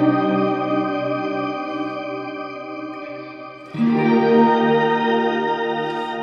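A Strymon BlueSky pedal set to fully wet shimmer reverb with long decay sustains lush, shimmering chords that ring on, with a fresh swell entering midway and blooming over the fading tail.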